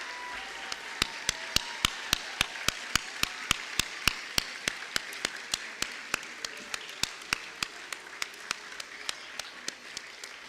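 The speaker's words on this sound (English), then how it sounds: "show our appreciation to you with a huge round of applause." Audience applause for coaches at a school sports awards night: soft, distant crowd clapping under a sharp, regular series of single loud claps, roughly three per second, continuing steadily throughout.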